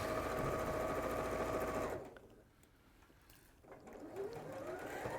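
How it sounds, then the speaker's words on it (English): Overlocker sewing machine running at high speed as it finishes a fabric edge, a steady loud whir for about two seconds before it cuts out and quieter room noise with faint movement follows. "We've got an overlocker for you if you want to overlock at the edge."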